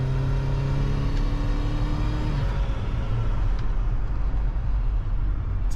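A turbocharged Chevy HHR SS Panel with 200,000 miles accelerates hard while shaking. Its engine note climbs steadily, then gives way to a loud, dense rumble with no talk over it.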